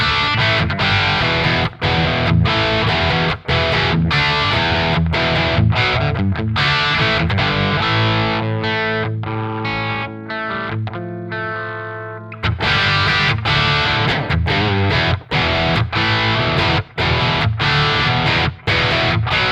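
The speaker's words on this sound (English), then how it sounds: "So let's hear what the Splawn Competition 50 sounds like." Electric guitar played through a Splawn Competition 50 amp model with added reverb, a loud distorted Marshall-style tone of chugging palm-muted riffs and stabs, with a sustained ringing chord section in the middle before the riffing resumes.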